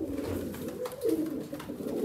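Domestic pigeons coo close by, a short run of low, rolling throaty calls over a soft background hum.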